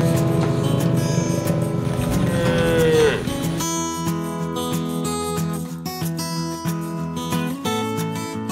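A village cow moos loudly and close at a riverside cattle pen, a long low bellow that rises and fades, over farm background noise with other livestock sounds.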